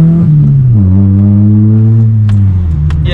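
A daily-driven car fitted with a cheap $50 aftermarket exhaust idles with a deep, burbling exhaust note that dips and drones, loud and close, with faint clicks in the background.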